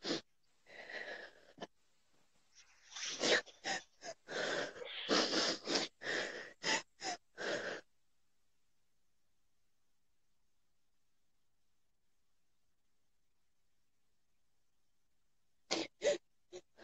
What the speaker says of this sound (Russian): откашлю чуть